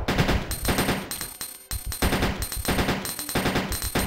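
Rapid quick-shot gunfire in a randomized video game, a loud close string of short bursts with brief gaps, mechanical clicks and a ringing tone between shots.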